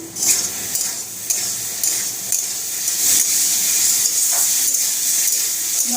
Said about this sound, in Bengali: মশলার সাথে আলুটাকে দিয়ে ভালো করে কষিয়ে নিয়েছি